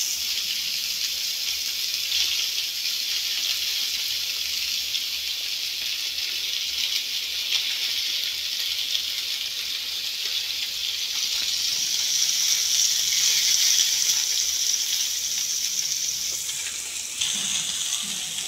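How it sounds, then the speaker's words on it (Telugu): Murrel fish fries lightly in a pan with a continuous hissing sizzle that holds steady throughout, close and fairly loud, swelling slightly toward the end. "చూసారా, చక్కగా ఫ్రై అవుతుంది"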